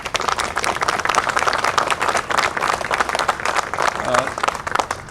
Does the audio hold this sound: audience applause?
yes